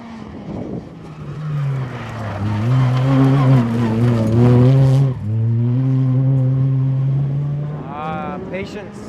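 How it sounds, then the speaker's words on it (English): A Ford Fiesta R2 rally car engine screams at high revs as it approaches uphill on a rally stage, holding a steady sustained tone with brief shifts, loud and close throughout. "first official Ford Fiesta R2 on its way up the hill"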